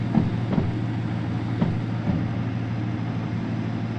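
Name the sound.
locomotive train running on rails, from video game Derail Valley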